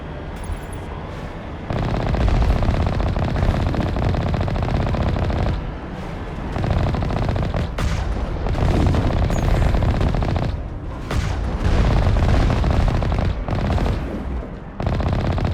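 Sustained automatic gunfire in Mass Effect: Legendary Edition, loud and dense bursts of rapid shots with brief pauses between volleys, continuing across the whole stretch with no talk.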